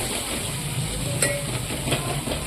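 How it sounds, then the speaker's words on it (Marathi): Homemade black masala for chicken sautés in hot oil, a steady close sizzle and crackle with faint stirring scrapes throughout, no talking. "त्याला पण थोडंसं तेल सुटेपर्यंत छान असं परतून घ्यायचं"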